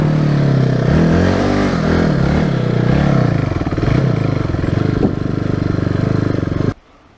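A Hyosung GD250N motorcycle engine running after a push start on a hilltop, a loud, steady throb with rising and falling revs and some clatter, cutting off abruptly near the end.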